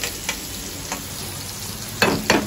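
Chopped onion hitting hot oil in a pan, giving a steady sizzle with a few louder stirring bursts near the end, and no voices.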